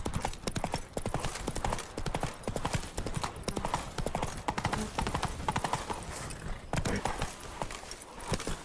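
A horse gallops at speed in The Witcher 3: Wild Hunt, Blood and Wine, its hooves pounding in a fast, steady, close rhythm with faint background sound and no clear speech.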